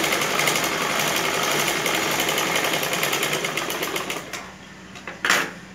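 A sewing machine runs a continuous, fast, even whir while stitching a double-folded pant hem, then slows and stops with a couple of short bursts near the end.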